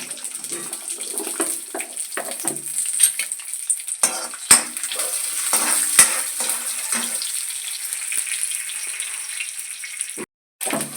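Chopped cashews and raisins fry in ghee for unnakkaya, a soft bubbling hiss broken by scattered clicks and scrapes of a spoon stirring the pan, close and without speech.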